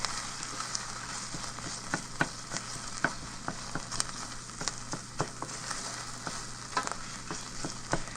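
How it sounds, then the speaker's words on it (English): Tomato paste fries in a soup pot, giving a steady close sizzle punctuated by frequent scraping stirs of a spoon, moderately quiet, with no voices. "We just want to kind of cook the tomato paste to kind of cook out that raw tomato"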